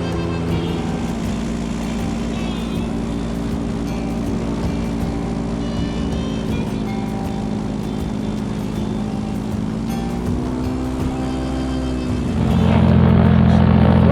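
A motorboat engine's steady, loud drone with low harmonic hum runs throughout, rising in pitch and intensity near the end as the engine revs up.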